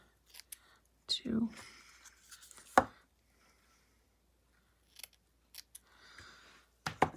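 Scissors make rough cuts through velvet paper to form strips: a few short, crisp snips separated by quiet pauses, with a brief spoken word in between.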